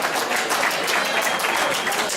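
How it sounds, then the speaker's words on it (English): Dense, steady applause from a crowd at a school student recognition day, many hands clapping continuously at an even loudness with no voices standing out. "Nathan, a round of applause too."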